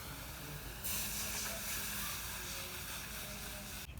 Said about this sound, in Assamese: ইয়াতে মই এতিয়া অলপ পানী দি দিম